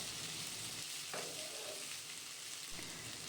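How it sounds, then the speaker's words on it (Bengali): Steady sizzling of an egg frying in a hot pan, spread and broken up with a spatula, a continuous crackling hiss with no voices, fairly close. "খুন্তি দিয়ে এইভাবে ছাড়িয়ে ছাড়িয়ে দিতে থাকবেন তাহলেই দেখবে ডিমটা কিন্তু খুব সুন্দর করে ভাজা হয়ে যায়"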